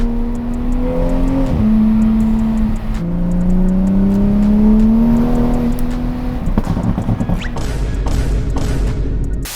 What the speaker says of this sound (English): let me get this thing warmed up and then we'll get you guys some sound clips of my current burble